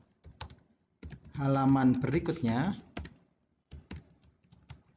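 Computer keyboard typing while building an interactive solar-system multimedia project in Adobe Flash; short bursts of close keystroke clicks come before, between and after a man's speech.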